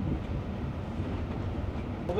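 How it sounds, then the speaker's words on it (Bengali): The Bandhan Express creeps along at low speed, giving a faint, steady low rumble heard briefly and without any clear talk over it. "মন্থর গতিতে চলছে আমাদের ট্রেন"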